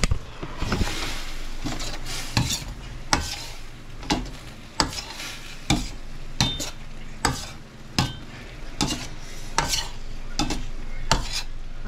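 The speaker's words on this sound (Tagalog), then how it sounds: "Haluin po natin ng 2 minutes." Chicken curry sizzles in a frying pan while a spoon scrapes and stirs in a steady rhythm, sharp clacks against the pan rising over the continuous frying hiss.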